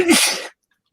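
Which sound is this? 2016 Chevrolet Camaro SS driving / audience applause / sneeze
sneeze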